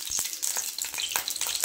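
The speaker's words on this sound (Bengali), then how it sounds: "শুকনো লঙ্কা ফোড়নটা দিয়ে দিলাম।" Dried red chillies dropped into hot oil as a tempering for aloo dum, crackling and sizzling loudly and close, with quick stirring scrapes and rapid spits throughout, no talking.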